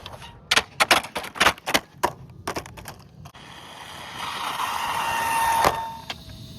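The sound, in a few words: Hosim Moxlin M13 brushless 1/14 RC stadium truck driving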